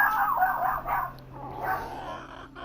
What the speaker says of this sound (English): Fuck is she barking?